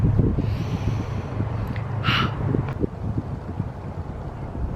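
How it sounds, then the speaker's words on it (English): Gusty wind buffets the microphone in a steady low rumble on an outdoor reading break, with a brief breathy burst midway and no talking. "It's a bit windy."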